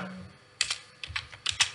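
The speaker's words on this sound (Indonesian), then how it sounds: "Contohnya di sini saya ingin mengetik" Typing on a computer keyboard while working in Microsoft Word: a short run of quick, crisp key clicks in small clusters, close and clear, after a brief lull.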